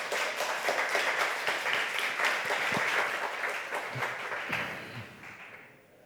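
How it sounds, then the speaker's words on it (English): Audience at a data analysis talk applauding as speakers come on stage; steady, dense clapping from a sizeable crowd that fades out over the last second. "give them warm applause"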